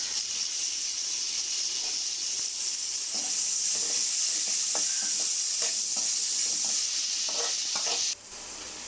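Chopped chillies, onion and ripe tomatoes sizzle steadily in a hot pan, a continuous bright frying hiss with scattered soft stirring knocks and spatters, close and fairly loud, with no talk.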